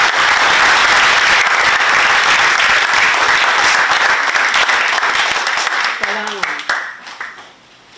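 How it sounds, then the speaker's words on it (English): Crowd at a high school Christmas tree competition in Pohnpei giving the contestants a big round of applause, dense sustained clapping that thins and fades near the end as a voice begins to speak. "give them another big round of applause that they deserve"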